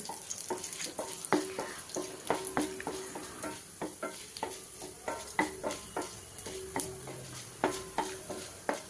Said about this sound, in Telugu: శనగపప్పు 1 స్పూన్, మినపప్పు 1 స్పూన్, ధనియాలు 1 స్పూన్ వేసుకోండి. వీటిని దోరగా వేయించండి.